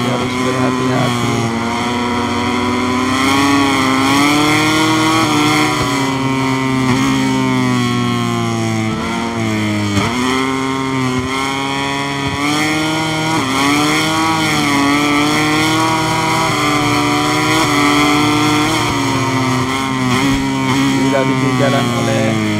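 A racing motorcycle engine from MotoGP 2023 screams steadily at high revs, its pitch sliding through gear changes and dipping briefly before climbing again. The engine stays loud and close throughout, with a commentator talking over it.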